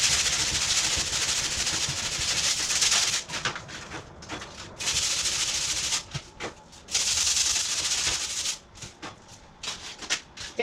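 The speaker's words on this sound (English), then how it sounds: "I then have some sandpaper, and I'm just going to sand this down" Sandpaper scrubs excess filler off a kitchen hinge in long, loud, close rasping strokes broken by short pauses and lighter scratches.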